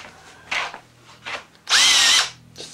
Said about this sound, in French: C'est une petite perceuse de batterie.